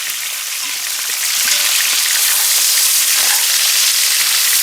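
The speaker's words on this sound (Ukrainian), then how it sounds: "так тут у нас шкварчить" Pork fat sizzles steadily in a frying pan, a dense, close crackling hiss that stays loud and even from start to finish, with no voices.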